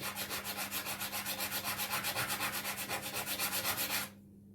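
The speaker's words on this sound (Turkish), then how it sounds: "zımparaya camı dik bir pozisyonda koyuyorum" Rhythmic back-and-forth scraping of a stained-glass edge rubbed by hand against sandpaper, glass held upright, close and steady, stopping abruptly near the end.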